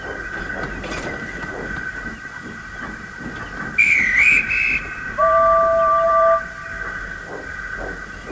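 A guard's whistle sounds at a station where the Flying Scotsman waits on the platform, with a shrill burst followed by a long steady blast over a low rumble of rail noise.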